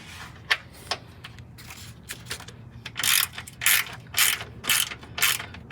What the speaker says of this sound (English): Can I have that small 10 millimeter ratchet?